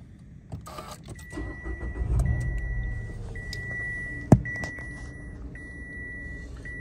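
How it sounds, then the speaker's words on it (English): A Mitsubishi Mirage with an ABS warning light starts up inside the car, with a dashboard beep tone, a brief crank and a sharp catch, then a quiet steady idle. "I'm going to start the car"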